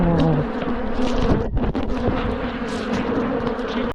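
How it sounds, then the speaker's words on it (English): A dense, continuous buzzing of a large, agitated bee swarm at an apiary, loud and close, droning steadily throughout with many overlapping wingbeats. "You probably can't hear me because there's a million bees attacking."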